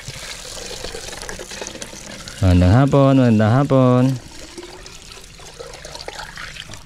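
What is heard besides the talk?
water being fetched from a spring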